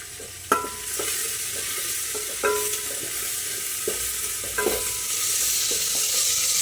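Snake gourd and green chillies sautéing in oil, a continuous sizzle broken by several sharp stirring scrapes and clinks of a spoon against the pan.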